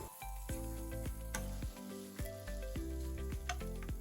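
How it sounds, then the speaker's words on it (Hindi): Boiled, chopped potatoes with spices being stirred in a pan for a dry spicy potato dish, giving a steady sizzle with the repeated scrape of a spoon over background music, no talking. "अब इसे चलाते हुए अच्छी तरह से हम मसाले को मिक्स करेंगे आलूओं के साथ में"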